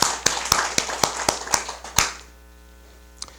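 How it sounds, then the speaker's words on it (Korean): Audience clapping at a Wednesday Buddhist dharma service, a short run of about eight distinct, evenly spaced hand claps, loud and close, ending abruptly with a single faint clap after a pause. "이분에게도 박수 한번 보내주시기 바랍니다"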